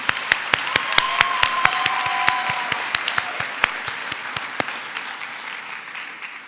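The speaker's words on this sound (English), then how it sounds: "Let's give her a round of applause." Audience applause at a university alumni awards ceremony, with sharp individual claps standing out, steady at first and then thinning out and fading toward the end.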